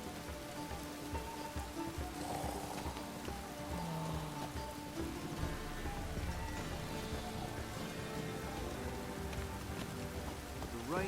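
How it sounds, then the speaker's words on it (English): Steady rain in The Witcher 3: Wild Hunt patters across city streets in a continuous wash, with faint background tones and no voices. "The rain will cleanse the city streets of filth."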